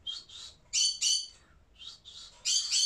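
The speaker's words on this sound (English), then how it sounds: "The parrots are now copying what I'm doing." Harsh parrot squawks come in quick pairs, several bursts in a row, moderately loud and slightly muffled as if from nearby.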